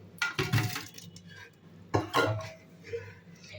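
Watermelon pieces dropped into a mixer jar give two clusters of clattering, clinking knocks of fruit against the jar, close by with short pauses between them.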